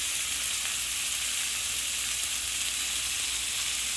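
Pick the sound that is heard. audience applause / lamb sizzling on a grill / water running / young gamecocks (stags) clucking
lamb sizzling on a grill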